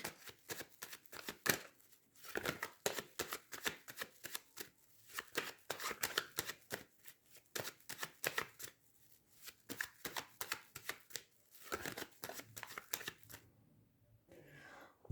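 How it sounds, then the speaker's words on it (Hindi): Tarot cards being shuffled by hand, a rapid run of crisp riffling bursts close up that carries on steadily and then stops near the end. "सो चलिए अब हम कार्ड्स लेते हैं और इनको कर लेते हैं शफल"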